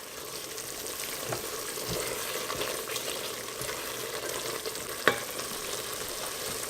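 Spices for a vegan chayote curry frying in a pan, an even close sizzle with soft stirring scrapes and one sharp utensil tap near the end, no voices.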